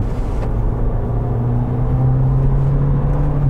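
An electric Mini Cooper driving at a steady, reasonable speed through corners, with a continuous low road and motor hum that stays loud and even throughout, with no talk.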